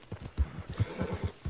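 A horse in the Red Dead Online video game trots with a quick run of clip-clop hoofbeats, mixed with faint whinny-like snorts, heard alone and close.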